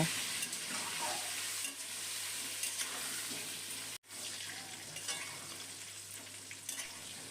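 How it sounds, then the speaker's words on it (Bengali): Potatoes frying in hot oil in a home kitchen pan, seasoned with salt and turmeric, give a steady, close sizzle with scattered crackles and stirring scrapes, interrupted by a brief dropout midway. "আলুটা লাল করে ভাজা হয়ে গেছে"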